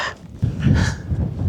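A dog on a hill walk gives a short burst of close yips and whines amid breathy outdoor rumble and footsteps.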